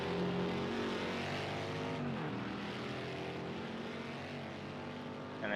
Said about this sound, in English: These cars sound fantastic.